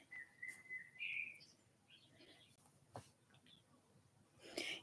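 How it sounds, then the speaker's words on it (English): Faint birds chirping in the distance, with a few short tweets and a brief whistled call over a quiet background. "Can you hear the birds?"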